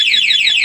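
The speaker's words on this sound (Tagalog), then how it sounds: "Nag-a-alarm na siya ngayon." A Suzuki Access scooter's anti-theft alarm wails loud and close, a continuous electronic siren sweeping up and down in fast repeating cycles.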